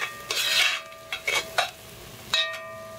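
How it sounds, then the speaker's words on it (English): Spoon stirring mushy vegetables in a soup pot, a few short metallic scrapes and clinks against the pot at irregular intervals, with quiet gaps between them. "Stir it around."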